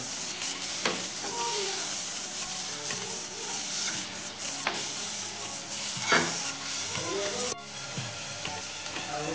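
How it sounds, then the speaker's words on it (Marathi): Chopped vegetables and paneer frying in a pan, a continuous close sizzle with repeated scraping stirs, the hiss steady and fairly loud throughout. "भाजी चांगली हलवून घ्यायची। पनीर टाकूया।"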